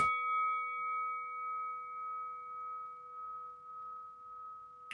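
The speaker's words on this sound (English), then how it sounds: "What a sonorous bell that is too." A single bell is struck during a live EFL Cup fourth round draw, and its sonorous tone rings out, then hangs and slowly fades in a long, clear, steady sustain, heard alone with no talking.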